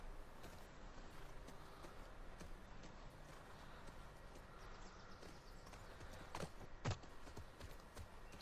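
Horse hooves clip-clop in The Last of Us Part II as the characters ride on horseback, a steady faint rhythmic trot under a low ambient bed, with two slightly louder hoof hits near the end.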